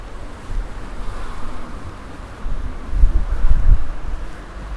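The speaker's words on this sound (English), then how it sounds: "Welcome to a windy day in Ronda." Steady winter wind in Ronda, Spain buffets and rushes past, swelling in louder gusts toward the end, with low rumbling noise and no voices.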